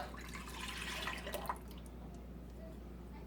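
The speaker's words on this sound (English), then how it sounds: "But we're just going to pour this into the pot." Kinder goat milk for farmer cheese is poured into a pot, a brief liquid splash and gurgle lasting about a second and a half before settling into low, quiet background hum.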